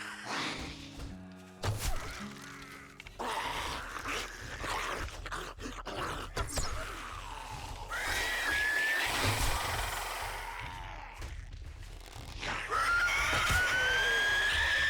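Enemy in the video game 7 Days to Die screaming loudly, with raw drawn-out shrieks and groans broken by heavy thuds and impacts, rising to sustained screams near the end.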